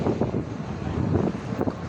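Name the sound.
strong wind at bus park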